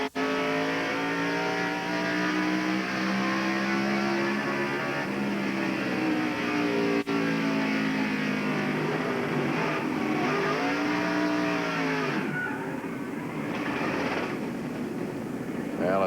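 A NASCAR Craftsman race truck's engine, heard from onboard at Indianapolis Raceway Park in 1998, roars loud and steady with rising and falling revs, with a few sharp shifts near the end.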